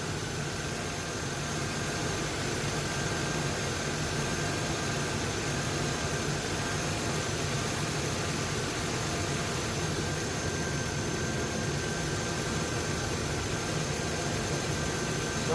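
Steady idle of a 2001 Chevrolet Impala with the 3800 V6 engine, its heater blower running on full, a constant even hum and airy hiss with no change throughout.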